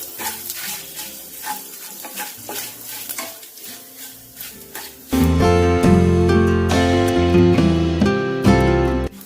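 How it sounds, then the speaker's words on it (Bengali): Chillies crackle and sizzle in hot oil while a spoon stirs, frying for dal, the frying suddenly swelling much louder halfway through and staying loud. "এখন লঙ্কাটা আমার ভাজা ভাজা হয়ে যাবে"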